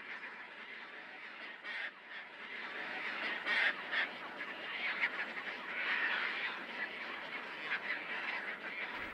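Nesting birds in a crowded colony in the Selenga River delta near Lake Baikal, squabbling in a dense, continuous din of overlapping quacking and honking calls, loud and close, with no talk.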